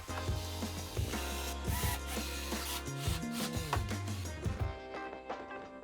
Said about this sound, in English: With the end support ready, I added glue for extra strength and then I screwed it into place.